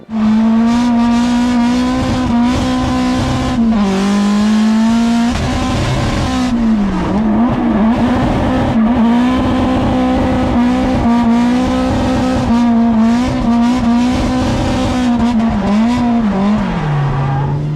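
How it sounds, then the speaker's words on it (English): A drift car slides backwards into a corner on a Japanese drift track, its engine droning loudly at a steady high pitch with dips as it revs, tires squealing continuously throughout. "Going backwards at that speed into a corner and just the sound of the car"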